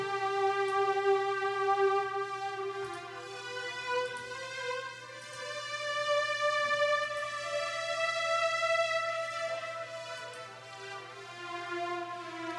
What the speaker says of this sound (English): So the next sound was the big string.